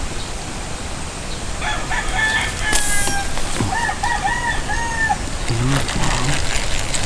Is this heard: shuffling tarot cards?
no